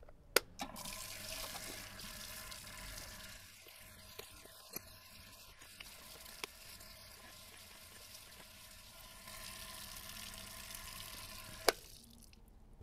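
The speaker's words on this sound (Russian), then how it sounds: "После химических ванн обязательно все детали нужно тщательно промыть водой и потом просушить." Machine parts from a lathe restoration being rinsed under running water after chemical baths, a steady hiss of flowing water with occasional clinks of metal, ending abruptly near the close.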